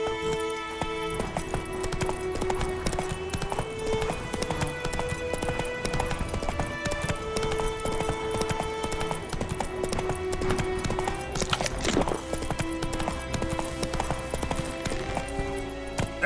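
Roach, a horse in the video game The Witcher 3, gallops in steady rapid clip-clop hoofbeats throughout, close and continuous over a dense game soundscape of background music.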